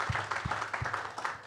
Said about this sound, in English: People want to clap.